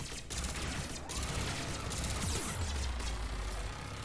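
Turret gunfire in Mass Effect 3, a dense, continuous rattle of shots and mechanical crashes filling the whole stretch without speech.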